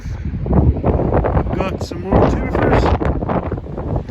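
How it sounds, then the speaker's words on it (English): Gusty wind buffets the microphone up on a roof being trimmed with tin, a steady broadband rush that swells and eases while someone talks throughout. "So yeah, bit windy"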